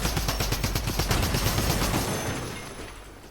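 Rapid automatic gunfire in the video game Fortnite rattles off in a fast, continuous burst, then trails away into a fading echo.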